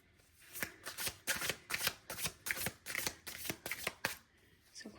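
Tarot cards being shuffled by hand, a rapid run of crisp riffling flutters repeating in quick bursts, close and fairly loud with no talking over them.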